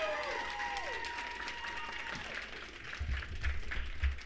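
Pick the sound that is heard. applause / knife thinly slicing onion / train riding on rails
applause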